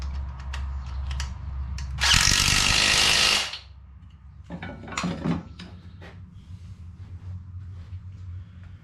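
A ratchet tightens bolts on an ATV engine, with a loud burst of harsh mechanical rattling, then a quieter scatter of clicks and small metallic knocks close by.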